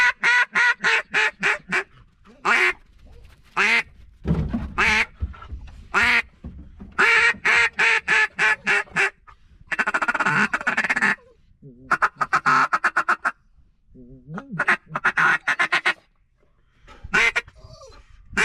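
A small-bore duck call blown in repeated bursts of loud, raspy quacks, close up, in rhythmic runs of several notes with short pauses, a couple of longer sustained feeding-style chatters, and no talking over it.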